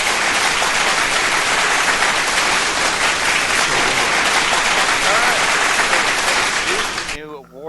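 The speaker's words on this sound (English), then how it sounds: "we'll play round of applause for the candidates" Sustained applause from a large crowd, dense and steady clapping throughout, then it cuts off abruptly near the end.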